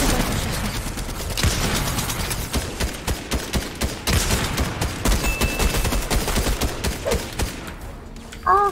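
Fortnite video game gunfire: dense, rapid bursts of shots crackle close and loud, nearly continuous for several seconds, then thin out near the end.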